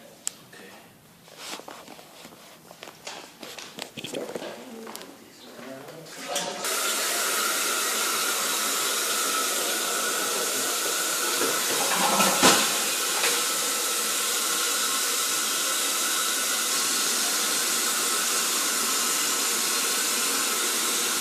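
Water rushes down a household drain during a home inspection: after some light clattering and handling noise, a loud, steady hissing flow starts and continues uninterrupted, close by.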